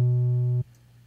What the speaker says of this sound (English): I am just going to add a sine wave to this.